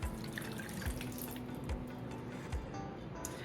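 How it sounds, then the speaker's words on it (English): Warm water trickles and drips into a small bowl holding yeast for dinner-roll dough, a steady close splashing pour with a few louder drips, no talking. "I have my warm water already pre-measured and I'm going to pour it in here."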